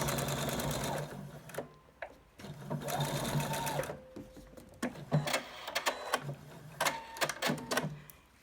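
A sewing machine runs in short bursts while stitching quilt block pieces, its rapid mechanical chatter starting and stopping several times with brief handling noises between runs.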